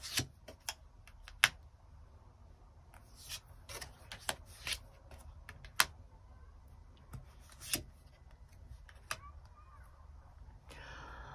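Tarot cards are shuffled to draw extra cards, with soft, irregular riffling and sharp card snaps and taps scattered over a quiet room.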